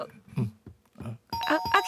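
A bright electronic correct-answer chime rings out in the final half second, after a stretch of talk and laughter on a radio show.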